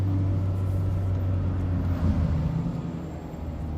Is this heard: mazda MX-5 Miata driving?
yes